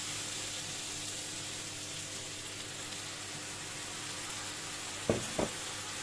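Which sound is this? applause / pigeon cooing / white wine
white wine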